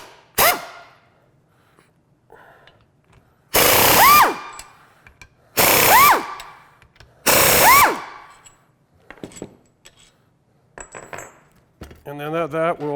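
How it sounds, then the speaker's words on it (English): A power tool works three bolts loose from a vehicle's steering knuckle during an off-road suspension lift install, with three loud, close bursts of impact-wrench rattle and whine separated by pauses, plus scattered clinks of parts and tools. "remove these 3 bolts in the back."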